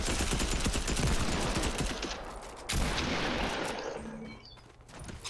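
Rapid gunfire in a Fortnite match, dense bursts of shots crackling loudly and continuously before easing into scattered distant shots near the end.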